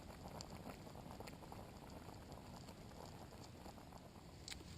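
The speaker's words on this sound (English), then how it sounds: "so that's bubbling away on just barely any flame there" Food bubbling in a pot over a very low flame, a steady close simmer of small popping bubbles and soft liquid patter with a few brighter pops, no talking.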